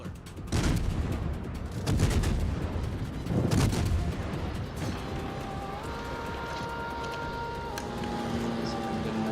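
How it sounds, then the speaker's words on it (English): Anti-aircraft guns fire in a naval combat game, with dense bursts of booming shots in the first few seconds, then rattling mechanical noise and a steady droning hum as the barrage eases off. "Anti-aircraft gun crews are on full alert."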